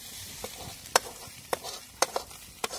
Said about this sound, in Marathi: तर आता मी कांदा आहे ना एका ताटामध्ये काढून घेते